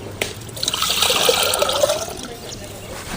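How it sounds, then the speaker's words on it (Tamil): Water poured from a small pot into a pan sitting on a lit stove, ready for cooking potatoes. A steady, moderately loud splashing pour runs for about three seconds. "ஒரு சொம்பு தண்ணி."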